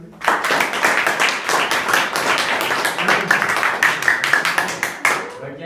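Students at an inter-college gathering clap loudly and continuously, a dense, steady burst of many hands applauding together with no break.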